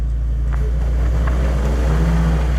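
A 2019 Ford Raptor's engine revs while climbing a rocky trail in the Rockies: a loud, close, steady low rumble that holds for the whole stretch with slight swells in pitch.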